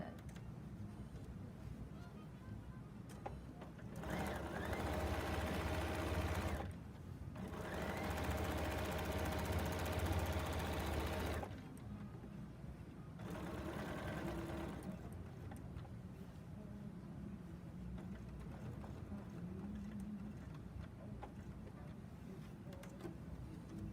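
A serger stitches binding onto a quilt through all layers, running in several steady whirring bursts separated by short pauses where the presser foot is raised to pivot, with a quieter mechanical hum in between.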